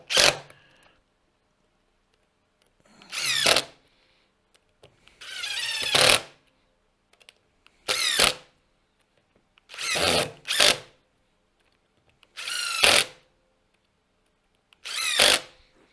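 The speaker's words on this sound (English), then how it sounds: "I'll use an impact driver here" A cordless impact driver seats screws into a turned wooden Christmas ornament in a series of seven loud, close bursts, each a second or so long, separated by short pauses.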